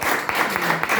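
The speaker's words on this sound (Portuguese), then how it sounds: "Vamos bater palmas a Jesus?" Brief, close rhythmic clapping from a church congregation during a worship service, a few sharp hand claps in steady time over a noisy room.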